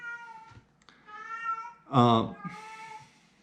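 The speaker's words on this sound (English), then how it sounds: "It's a cat howling for absolutely no reason whatsoever." A house cat howls and meows loudly in a room, several drawn-out yowls rising and falling, with the loudest cry near the middle and a person's voice heard briefly alongside.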